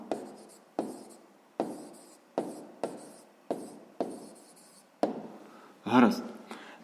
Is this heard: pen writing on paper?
yes